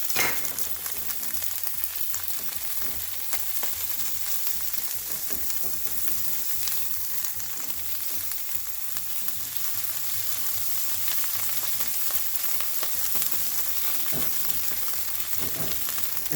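Pizza crust frying in butter in a pan until crispy: a dense, continuous sizzle with occasional stirring or scraping touches, even and sustained throughout, with no speech.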